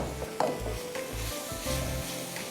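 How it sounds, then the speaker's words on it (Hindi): Spices and tomatoes frying with ginger and garlic in a pot, a low steady sizzle with a few scraping stirs close up. "अच्छी तरह मसाले, टमाटर आप भूनिए अदरक लहसुन के साथ"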